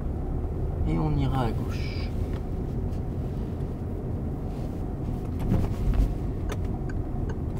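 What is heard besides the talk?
car accelerating and shifting into second gear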